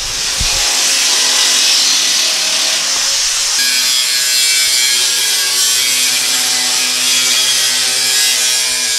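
Power tool cutting through skid plate material for a Chevy G20 van, a loud continuous grinding whine that holds steady for the whole stretch, close to the microphone.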